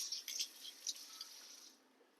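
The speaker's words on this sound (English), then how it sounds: "Hold on, let me rinse." Tap water runs and splashes briefly while something is rinsed in a kitchen sink, a soft hiss with small spatters that stops abruptly near the end.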